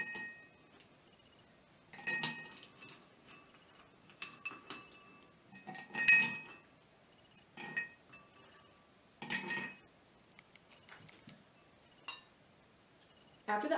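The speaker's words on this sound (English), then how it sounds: "we're going to take an empty glass and we're going to fill it with about 5 or 6 ice cubes" Five or six ice cubes drop one by one into an empty glass, each landing as a sharp bright clink with small rattles, spaced over several seconds in a quiet room.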